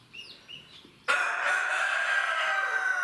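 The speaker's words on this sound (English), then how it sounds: "The guinea just chirps and swears" A guinea fowl kept with a hen and chick gives a sudden loud, harsh burst of calling after a quiet start with faint bird chirps, the raspy noise continuing close by to the end.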